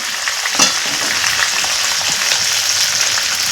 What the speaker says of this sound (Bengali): সেই পেঁয়াজ কুচোটা লাল করে ভেজে নিতে হবে